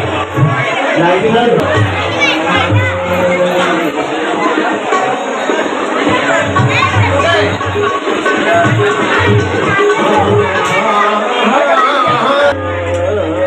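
A dense crowd of devotees mills about at a village temple fair for the goddess Kalika Mata, with a continuous loud hubbub of overlapping voices, shouts and children's calls, and a low rhythmic drumming pulsing underneath.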